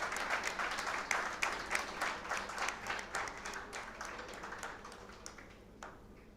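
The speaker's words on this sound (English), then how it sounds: "Please join your hands together and give a big round of applause to Priyavrata." An audience at a national conference on critical minerals claps in steady applause, dense at first and gradually thinning and fading out over several seconds.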